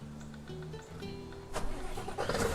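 A truck engine in the SnowRunner game cranks and catches, its low hum giving way to a louder, rougher idle that rises after about a second and a half, heard alone and close.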